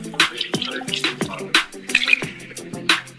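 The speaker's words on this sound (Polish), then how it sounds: "Skąd mogę wziąć wodę? Z kranu." Water runs from a tap into a sink, heard close up with irregular splashes, drips and light clinks of something under the stream.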